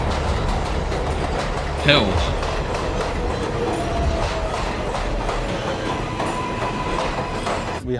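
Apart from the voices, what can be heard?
New York City subway 7 train running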